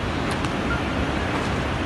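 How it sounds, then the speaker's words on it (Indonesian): Fast-flowing river water during the rainy season, a steady broadband rush that fills the whole clip without breaks, heard from nearby on the bank. "Airnya juga cukup deras"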